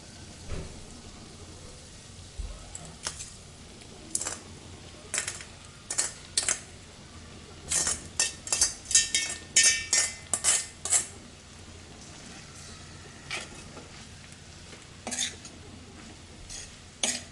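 Poha being stirred with cooked potatoes in a pan: a series of sharp metallic spoon scrapes and clinks in uneven bursts, clustered most thickly in the middle and thinning out later, with no voices over it.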